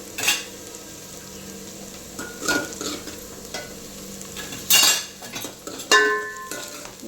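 Potato dum biryani ingredients with mint are stirred and fried in a pan: intermittent spoon scrapes and clinks over a soft background sizzle, close by, with no speech.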